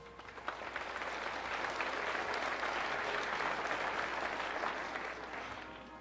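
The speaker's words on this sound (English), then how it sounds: "Please give yourselves a round of applause." Graduates at an Adams State University fall 2013 commencement break into sustained applause, a dense wash of many hands clapping that swells quickly, holds steady for several seconds, then fades.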